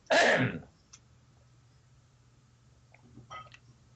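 A single loud, rough throat clearing bursts out at the start, followed by quiet room tone and a few faint clicks.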